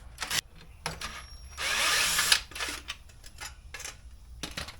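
Power drill with a 10mm socket spinning out brake shield bolts during a wheel bearing job, one sustained whirring burst of about a second amid short clanks and tool handling, close and fairly loud.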